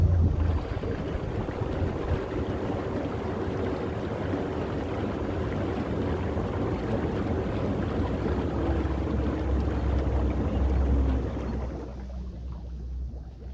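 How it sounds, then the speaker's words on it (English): Air bubbles rise through the bottom of a spa tub in a steady, close, rushing churn of water that runs evenly before cutting off near the end, with no talking. "we can also add actual air bubbles up through the bottom as well"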